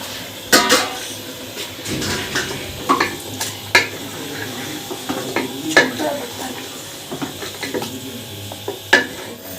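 Chicken cooking in a large pot in a home kitchen: metal spoon scraping and clinking against the pot with a soft sizzle underneath, irregular stirring knocks close by.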